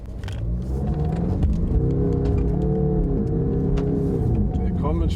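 A 2020 Land Rover Defender 110 pulls away at full throttle, its engine note climbing in a steady, close rumble while people talk over it.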